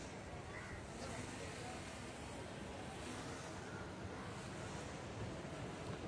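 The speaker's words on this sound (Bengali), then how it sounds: "প্রচুর বাতাস কিন্তু।" Strong wind by the sea at Teknaf makes a steady, faint rush of broadband noise with no breaks, like wind on a microphone near the surf.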